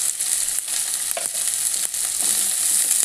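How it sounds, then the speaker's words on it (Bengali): Vegetables frying in a pan with salt give a loud, steady, hissing sizzle close up. Soft scrapes of stirring break through it now and then, and no one speaks. "এবার আমি নাড়াচাড়া করে নেব।"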